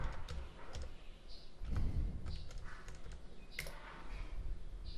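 Keys tapping on a computer keyboard while a password is entered during a software install on Ubuntu, a soft scatter of quick close clicks over a low room hum with no talk.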